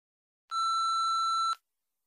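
An answering machine gives a single clean electronic beep about a second long, steady and tonal, alone against silence.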